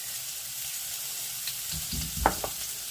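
Sofrito of onion, celery and carrot sweating in extra virgin olive oil in a pan, a soft steady sizzle with a couple of faint stirring knocks near the end and no voices.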